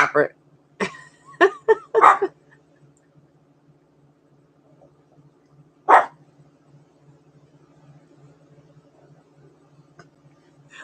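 A dog indoors gives several sharp barks in a quick cluster near the start, then one more bark later, over a quiet room with a low hum.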